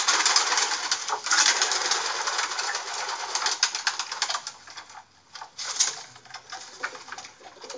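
Old Polish pigeons shift about a loft, with dense scratchy rustling, tapping and fluttering up close, easing into quieter scattered clicks and scuffles.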